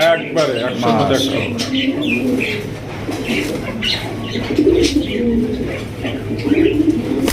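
German Polish satin pigeons coo in low repeated calls at close range, with some wing flapping and background chatter from people nearby.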